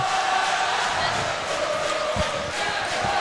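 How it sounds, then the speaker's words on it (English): A rowdy crowd at a Calvert vs Leipsic high school volleyball regional semifinal in the Lakota High School gym makes a steady, loud wash of indistinct chatter and shouting, with a few dull thumps. "Boy, it's a rowdy crowd over here at Lakota High School"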